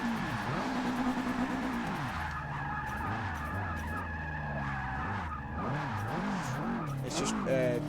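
Car engine revving with skidding and tire squeal in the racing game Forza 6, wavering engine tones rising and falling continuously while someone talks over it.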